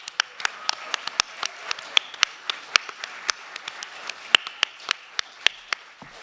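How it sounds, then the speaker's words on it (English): Sparse, scattered clapping from an evening audience at a Three-Minute Thesis final, individual sharp claps ringing out irregularly across the whole stretch rather than a dense roar, with no talking. "one final round of applause for all of our finalists for this evening."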